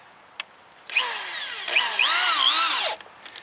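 A drill drives a 4-inch deck screw into the wood of a garden raised bed, a close, loud two-second whine whose pitch dips and rises as the screw bites, with faint knocks before and after.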